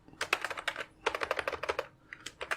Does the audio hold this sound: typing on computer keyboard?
yes